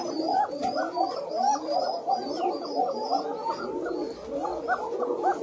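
A pair of Koka pigeons coos continuously up close, with soft rolling, gurgling calls overlapping in a steady stream, and a faint high chirp in the background.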